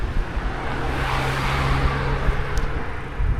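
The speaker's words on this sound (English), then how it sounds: "As you can see, just one car overcame me" A car overtaking a cyclist on a narrow road along the former Berlin Wall trail, its engine and tire rumble rising and holding steady close by over constant wind and road noise, with no talking.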